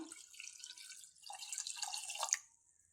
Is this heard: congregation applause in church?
no